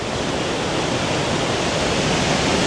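A waterfall in Glacier National Park roars as steady, dense white rushing water, loud and unbroken, with no voices.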